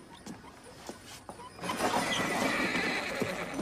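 Horses pulling a Christmas sleigh neigh and whinny, with a busier stretch of hoofbeats, jingling and outdoor clatter rising midway and continuing steadily to the end; no one speaks.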